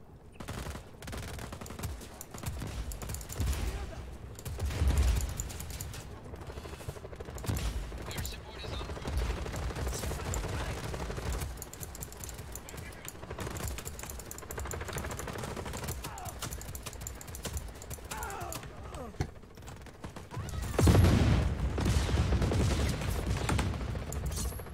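Gunfire in Just Cause 4, scattered shots and short bursts among game noise, with heavier firing flaring up in a couple of spots.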